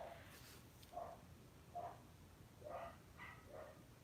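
Dogs barking outside, about five distant, muffled barks spaced roughly evenly, faint behind background room noise.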